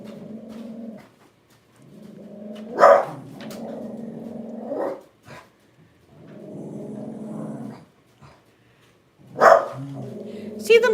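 A dog growls and barks in short rough bursts, with two sharper, louder barks standing out, close by and repeated across several seconds.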